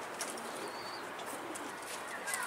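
Pigeons, including tumbler pigeons, in a loft setting, with soft cooing and faint bird calls over a steady hiss of background noise.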